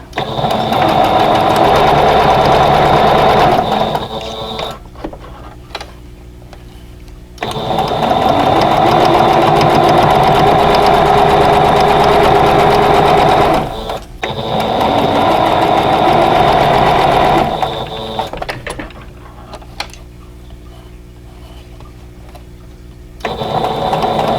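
Sewing machine stitching pinned vintage quilt block pieces, running in loud steady bursts of about five seconds with quiet gaps between, up close with no talk.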